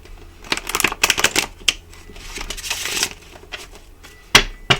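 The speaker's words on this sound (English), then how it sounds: "Let me give this a little bit of a shuffle." Tarot deck shuffled by hand, with bursts of crisp riffling and sliding cards in uneven clusters, close up and separated by short pauses.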